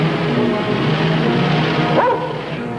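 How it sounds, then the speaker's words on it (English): A hunting dog barks and yips in an old radio drama, short muffled calls over a steady hissy background. "The other man had a hunting dog."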